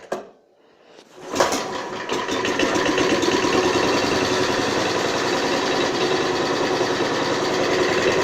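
Petrol engine of a homemade inverter generator, already warm, starts after a brief cranking burst and settles into a steady, loud, close running drone with a busy mechanical rattle, throttle slightly opened.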